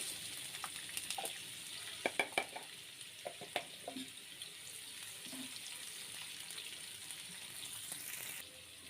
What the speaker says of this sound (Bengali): তেলটা গরম হয়ে গিয়েছে, পেঁয়াজ দিয়ে দেব।